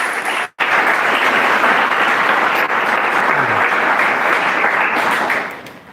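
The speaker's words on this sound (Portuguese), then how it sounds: "uma salva de palmas para Jesus." Congregation at a Portuguese-language church communion service claps together in sustained, even applause, loud and close, with a brief dropout near the start and fading at the end.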